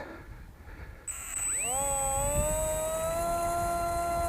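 A small Mini Lidl RC biplane's electric motor spools up to about two-thirds throttle into a steady, high, whining drone with a sharp pitch rise, holding constant in flight over light background noise.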